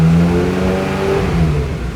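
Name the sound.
Ferrari engine revving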